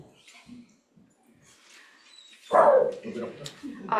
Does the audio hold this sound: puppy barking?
yes